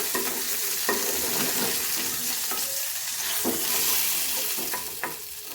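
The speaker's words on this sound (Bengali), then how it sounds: "মাছগুলোকে আমি ভালো করে ভেজে নিয়ে একটা পাত্রে তুলে নেব।" Bhola fish frying in hot oil in a pan: a steady, close sizzle and crackle with a few sharp spatula clinks against the metal, no voices.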